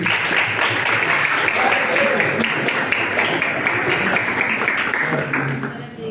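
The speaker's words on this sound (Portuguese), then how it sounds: "Aplauda o Senhor, igreja." A church congregation breaks into steady, dense applause that holds for several seconds and then eases slightly at the end, with a voice speaking faintly underneath.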